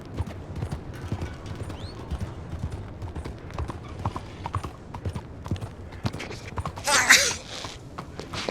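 Horse hooves clip-clop at a steady riding pace in Red Dead Redemption 2, close and continuous, with a brief hissing burst near the end.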